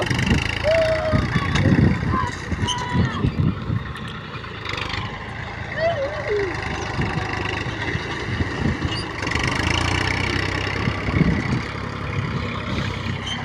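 A tractor engine rumbles low and steady near a heap of soil by a groundnut field, continuing throughout while people talk over it.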